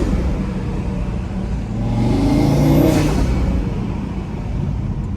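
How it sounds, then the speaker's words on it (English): A 2018 Audi RS3's exhaust hums and rumbles steadily as it drives, swelling briefly in a smooth rev before settling back, heard from inside. "Car sounds pretty good though, in my opinion."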